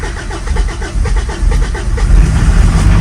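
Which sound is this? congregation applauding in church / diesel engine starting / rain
diesel engine starting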